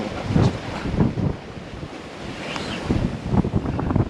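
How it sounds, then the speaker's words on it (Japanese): Ocean waves crash and splash against coastal rocks at Hashikui-iwa, Wakayama, Japan, in surging bursts with heavy spray, loud and close, with wind buffeting the microphone throughout. "お、すげえしぶき。"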